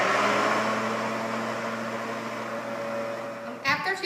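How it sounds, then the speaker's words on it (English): A blender on chop mode whirs steadily as it chops onion and garlic for Puerto Rican sofrito, a close motor drone with a slight pitch drift that cuts off near the end, followed by a brief knock. "I'm going to put it in a chop mode, and going to start blending"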